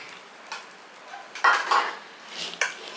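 Grated coconut being added to a pan of sathu maavu laddu mixture: a few sharp metallic clinks and scraping taps of a spoon against the pan, spaced irregularly over a quiet background.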